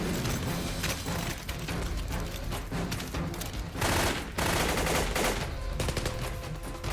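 Dense bursts of rapid gunfire crackle continuously, loud and chaotic, like a heavy exchange of automatic weapons fire with sharp repeated cracks throughout.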